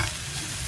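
Baby potatoes fry in a pan with a short, steady sizzle close up, and no voices.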